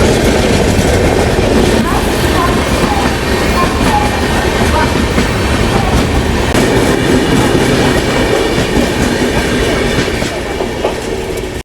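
Raptisagar Express rolling past at an Indian railway station, a loud continuous rumble with rhythmic clickety-clack of wheels over rail joints and faint squeal, close by throughout.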